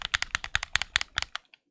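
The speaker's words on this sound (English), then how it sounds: "Most controller sticks sound like this. This is my Switch 1 Pro controller." Nintendo Switch 1 Pro Controller analog sticks being moved make a quick run of close, dry plastic clicks and scrapes, about a dozen in under two seconds, ending with a couple of softer taps.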